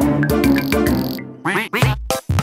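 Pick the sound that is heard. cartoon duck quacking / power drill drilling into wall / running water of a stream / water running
cartoon duck quacking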